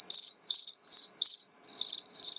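Steady high-pitched cricket chirping in rhythmic bursts with short pauses from the forest setting of a PICTEK night light white noise machine, close and fairly loud, no voices.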